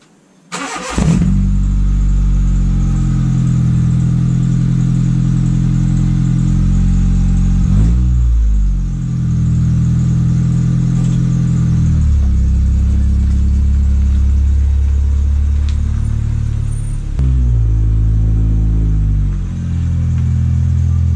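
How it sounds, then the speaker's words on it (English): Honda Civic engine starting and idling with its rusted-off muffler removed, a loud raw low exhaust rumble after a sharp start, with a few throttle blips around the middle and near the end, close by and with no voices. "Let's see how this thing sounds with no muffler on it."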